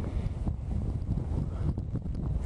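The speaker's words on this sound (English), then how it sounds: "Sorry about the wind." Gusty wind buffeting the microphone outdoors near the Calbuco volcano eruption in Chile, a loud, continuous low rumble with uneven thumps that fills the whole short stretch.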